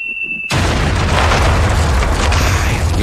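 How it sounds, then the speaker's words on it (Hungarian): Explosion sound effect on a Hungarian radio game show: a tone cuts off and a loud, dense boom erupts, rumbling and hissing steadily to the end. "Jó nagyot robban."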